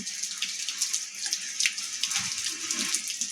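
Steady rain falling on a rainy morning: a continuous, even hiss of drops with small patters throughout, fairly close, with no voices.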